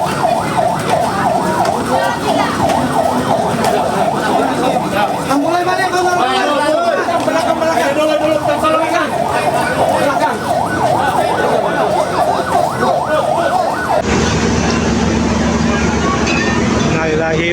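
Several ambulance and emergency sirens wail continuously at a train crash scene in Bekasi, where a KRL commuter train was struck by the Argo Bromo, loud and overlapping throughout, with people talking over them.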